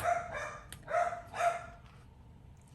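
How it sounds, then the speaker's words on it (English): Several dogs bark in short bursts nearby, three or four yelps spaced about half a second apart, then fading into quieter room tone. "Lord, these dogs."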